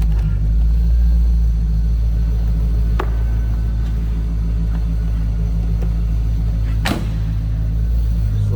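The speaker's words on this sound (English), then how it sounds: "Little rumble coming out of that LT4." A 1996 Chevrolet Corvette Collectors Edition convertible with an LT4 V8 and six-speed manual idles in neutral. The low rumble is loud, close and steady throughout, with no voices.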